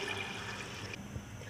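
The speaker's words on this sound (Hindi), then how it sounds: "अभी मैं पानी डाल दूँगी" Water pours steadily into a pressure cooker holding black-eyed peas, a close, continuous gushing splash for a second or two.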